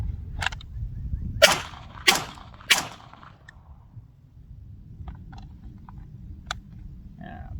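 Heckler and Koch USP Expert pistol firing 150 grain Federal Syntec ammunition outdoors: three sharp, loud shots about half a second apart, followed by faint clicks and handling noises with no talk.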